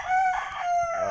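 A rooster crows once, a short, close, full-voiced call at a yard kept with many chickens.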